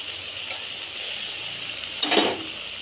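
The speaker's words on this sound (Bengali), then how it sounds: "এবার আমি এর মধ্যে দই আর শুকনো লঙ্কার গুঁড়ো দিয়ে দিলাম।" Yogurt and red chili powder hit hot oil in a frying masala for a Bengali cauliflower roast, raising a sudden loud sizzle near the end over a steady background frying hiss.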